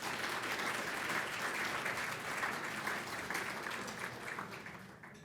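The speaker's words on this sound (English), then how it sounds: "let's give him a round of applause as well" A seated audience at a foreign policy institute event applauds in a dense, continuous wave of clapping that sounds somewhat distant and gradually tapers off toward the end.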